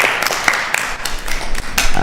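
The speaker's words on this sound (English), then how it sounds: "We have a round of applause for this." Audience applause at an ISKCON temple in Phoenix, honoring the sound technician; brisk, steady clapping from a nearby crowd throughout, with no talking.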